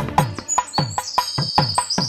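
Sparrows chirp in quick, bright bursts, a steady run of about ten close, loud tweets with a high whistling tone threaded through, used as a sound effect in a Telugu children's nursery rhyme.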